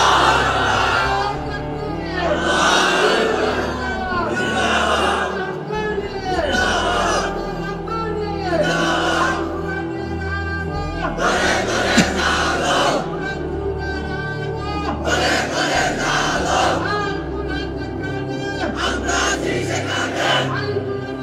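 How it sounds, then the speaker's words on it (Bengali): A large crowd at an Islamic sermon shouts takbir slogans in loud, rhythmic chanted bursts, voices rising together and falling in repeated call-and-response waves throughout. "তোমরাই স্লোগান দাও, তোমরাই তাকবীর বলো"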